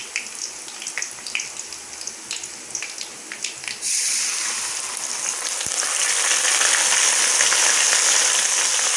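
Onions frying in a pan, starting with scattered pops and crackles before a loud, steady hiss of sizzling takes over, close up with no talking.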